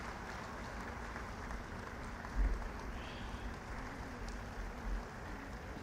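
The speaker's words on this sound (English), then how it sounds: "A very, very big round of applause for Karthik." An audience at a university convocation claps in a steady, distant wash of applause, continuous and fairly faint, with slight swells along the way.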